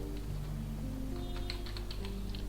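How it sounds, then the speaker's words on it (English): Soft, quiet typing on a computer keyboard, with rapid light key taps layered over a steady low background hum. "So now I am typing here printf."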